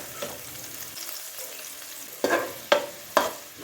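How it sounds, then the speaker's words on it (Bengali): Beans and green peas frying in hot oil, with a low continuous sizzle broken by three sharp bursts of spattering and stirring near the end; close and fairly loud, no voices. "এখন বিনস আর মটরশুঁটি ভালো করে ভেজে নেব"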